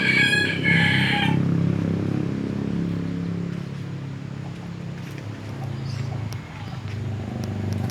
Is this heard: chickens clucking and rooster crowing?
yes